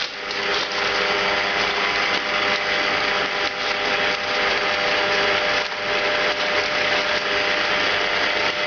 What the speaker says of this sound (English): I'm going to mix this around a little bit